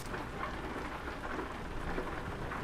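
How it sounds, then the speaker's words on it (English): Steady rain drums on a truck cab's metal roof overhead in the video game Euro Truck Simulator 2, a dense, even patter with a faint low rumble beneath. "You can really hear that rain hitting the top of the cab"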